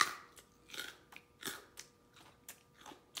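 Loud, crunchy chewing of food such as toast or crunchy cereal, with about eight sharp bites and crunches spaced in an irregular rhythm, close to the microphone and without talk.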